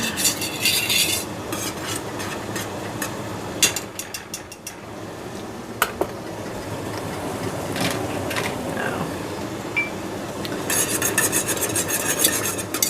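A whisk stirs thick apple cider jelly in a pot on the stove, a steady scraping rub that runs continuously with occasional clinks against the metal, fairly close.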